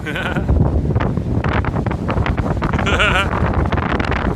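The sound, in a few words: strong wind blowing on the microphone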